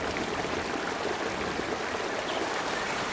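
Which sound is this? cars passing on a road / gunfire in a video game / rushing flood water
rushing flood water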